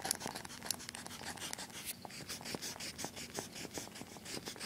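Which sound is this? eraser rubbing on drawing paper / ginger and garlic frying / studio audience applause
eraser rubbing on drawing paper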